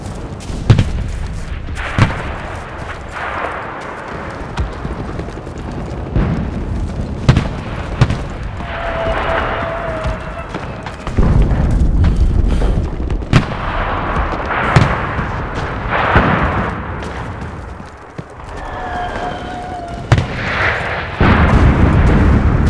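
A World War II D-Day Normandy invasion battle in the video game Enlisted, with repeated heavy artillery booms and explosions rolling through a dense backdrop of gunfire, loud and continuous with sharp blasts scattered throughout.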